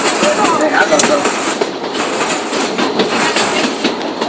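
A Silver Dollar train ride rolling along the rails, loud continuous clattering and rumbling of the cars with faint squeals from the wheels, close and steady throughout.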